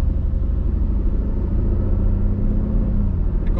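An Aston Martin Vantage Roadster in Sport Plus mode pulls away under gentle throttle, its engine a steady low rumble that rises only slightly, close and without talk.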